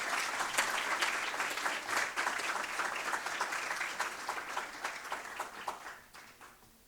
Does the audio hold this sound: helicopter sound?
no